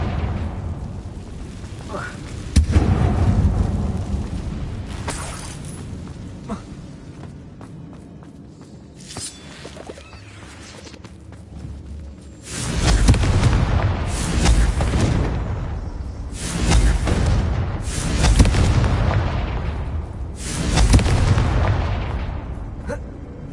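Confringo spell blasts in Hogwarts Legacy inside a closed mine, a series of deep booming explosions rolling out one after another, loud and near, with lighter thuds and footsteps between and a voice speaking now and then.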